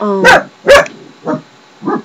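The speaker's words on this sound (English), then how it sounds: "That's the dog." A dog barks four times nearby, two loud sharp barks close together followed by two softer, shorter ones after pauses, with a brief spoken word between them.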